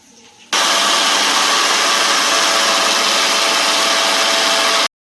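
An electric mixer grinder grinds a masala of onion, ginger and garlic with water, switching on abruptly into a loud, steady whirring roar that runs about four seconds before cutting off sharply.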